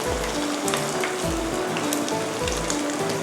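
Thung thong dumplings deep-fry in a pan of hot oil, giving a steady, dense crackle and sizzle throughout with faint tonal sounds underneath.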